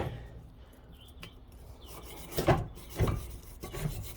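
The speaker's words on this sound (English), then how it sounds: "So I'm just going to come in here with a wire brush" Wire brush scrubbing rust off a Honda brake caliper bracket, producing close, uneven rasping strokes with a couple of louder scrapes against quiet shop background.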